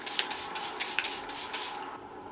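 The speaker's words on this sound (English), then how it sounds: "So you wouldn't think there's that much going into like a setting spray application." Makeup setting spray is misted in a few quick short bursts, close and soft, each puff a brief airy hiss with small pauses between, and no talking.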